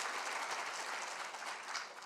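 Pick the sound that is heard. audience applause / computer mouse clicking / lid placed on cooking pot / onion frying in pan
audience applause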